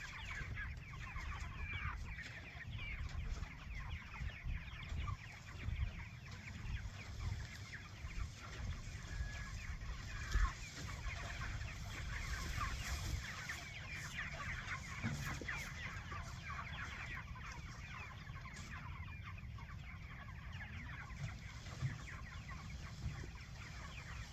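Chickens cluck softly and steadily in the background, a quiet farmyard murmur of several birds with occasional louder calls.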